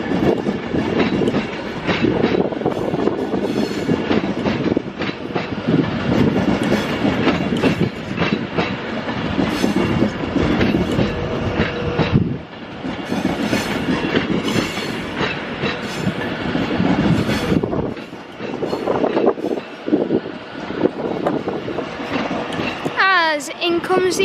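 An Avanti West Coast passenger train to Liverpool Lime Street rolls into Crewe station, with steady loud wheel rumble and clickety-clack through the whole stretch and a brief squeal near the end, while people talk faintly nearby.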